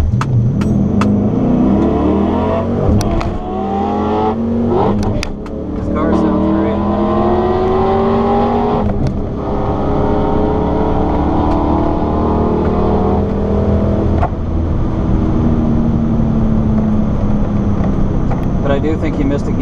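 A 5.7 Hemi car drag racing against a 392, loud engines revving and climbing through gears with rising whines, a brief dip partway through, steady and close throughout, with some voices mixed under the roar.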